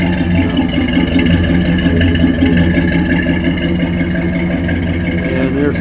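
A 1952 Chevy pickup engine rumbles steadily through its exhaust at a car show, a loud continuous low drone with slight surges, with voices faintly in the background.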